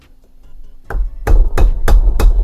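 A hammer strikes a screwdriver to bend back a lock washer on a Simson S51 engine, one light tap followed by four sharp, evenly spaced metallic blows close by.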